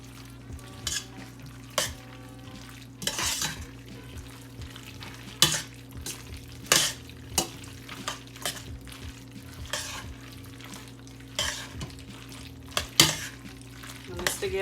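Already-cooked taco meat is stirred in a pan with a spoon, giving repeated scraping strokes over a soft steady sizzle, close and moderately quiet.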